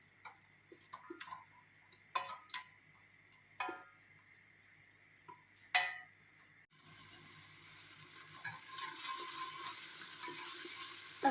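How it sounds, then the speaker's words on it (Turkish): Tomato paste cooks with a little chopped onion in a pan for sulu köfte. Sparse ticks and pops come first, then a steady, moderately loud sizzle takes over partway through and keeps going to the end. "Salçamı ilave ediyorum arkadaşlar. Domates salçasını. Biraz kavrulsun."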